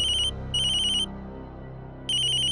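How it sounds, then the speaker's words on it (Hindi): A phone ringtone for an incoming call repeats as loud, bright electronic bursts, two in quick succession and a third after a short pause, over a quiet indoor background with no talking. "प्रीति मासी का फोन है।"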